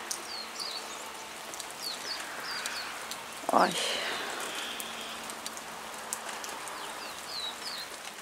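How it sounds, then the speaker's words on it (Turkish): Steady heavy rain pours down outdoors as a broad, even hiss, with faint bird calls in the distance and a woman's brief exclamation partway through. "Vallahi hava yağmur duracak gibi değil. Çok yağıyor şu anda."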